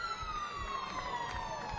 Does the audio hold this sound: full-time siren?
yes